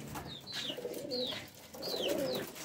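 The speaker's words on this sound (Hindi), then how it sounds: "ये सब ठंडे तेज़ ब्लड के कबूतर हैं" Pigeons of a fast, cold-blooded breed give soft, throaty coos in two or three repeated phrases, faint and fairly close, with no talking.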